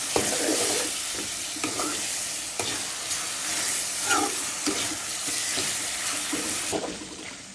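Chicken gizzards fry with onions, turmeric, chili, coriander and cumin, a steady close sizzle with regular stirring scrapes throughout and a brief splash of water.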